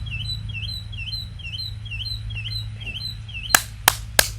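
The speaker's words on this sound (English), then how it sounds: "Damn mockingbirds" Mockingbirds chirping outdoors: a fast, repeated series of high, sweeping tweets over a low background hum, followed near the end by three sharp, loud clicks or knocks.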